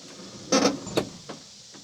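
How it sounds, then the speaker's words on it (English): The door of a Chevy Express camper van opens with a brief clunk and rattle, followed by a sharp click and fainter knocks, close and quiet. "I am going to have to open this door because it's getting hot in here"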